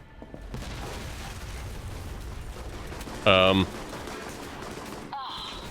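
Dense, continuous rumble of gunfire and blasts in the video game Alpha Protocol, with a sharp loud burst midway and another hit near the end.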